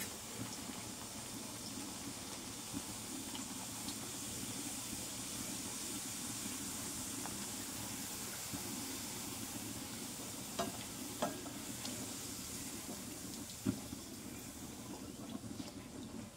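Puris frying in hot oil, a soft, steady bubbling sizzle heard fairly quietly throughout, with a few faint clicks and knocks near the end.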